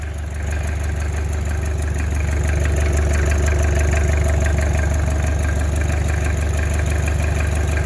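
A Mazda RF 2.0 diesel engine idles steadily up close, a loud even rumble with a regular clattering pulse and no speech.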